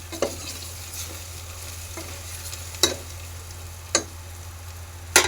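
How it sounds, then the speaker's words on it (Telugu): Ginger garlic paste frying in a pan for a Telangana-style curry, a steady soft sizzle with occasional sharp clicks of a spoon stirring against the pan. "చూడండి, అల్లం వెల్లుల్లి పేస్ట్ కూడా ఫ్రై అయిపోయింది."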